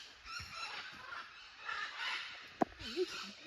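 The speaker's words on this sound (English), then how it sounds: "I think all the birds and that are waking up now." Birds call at dawn in the Amazon jungle around six in the morning, a busy layered chorus of distant squawks and honking calls over a hissing background, with one sharp nearer note.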